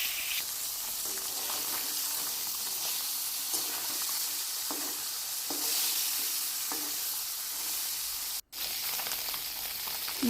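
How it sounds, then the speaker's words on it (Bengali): Koi fish frying in hot oil, a dense, even sizzle and hiss heard up close, steady throughout with faint scraping and a brief dropout near the end. "মাছগুলোকে অল্প ভেজে নিতে হবে"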